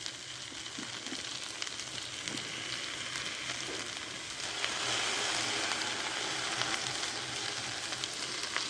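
Beaten egg poured into a pan with okra for a vendakkai omelette, sizzling and frying with a continuous crackle that grows slightly louder partway through, close and steady with no voices.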